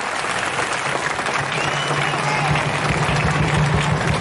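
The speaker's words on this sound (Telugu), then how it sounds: "చప్పట్లు కొట్టాలి" Crowd at a political rally in Telangana applauding in a continuous wash of clapping, loud and sustained, with a steady low hum and faint voices mixed in.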